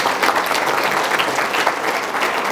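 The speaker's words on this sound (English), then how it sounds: "So give them a round of applause." A luncheon audience gives a dense, sustained round of applause, many hands clapping evenly and loudly with no break.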